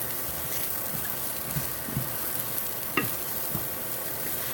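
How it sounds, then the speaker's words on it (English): Butternut squash being stirred into risotto in a hot pan, with soft scraping strokes and a few light knocks over a steady background sizzle. "I'm going to go and put the butternut in. Just stir that all in."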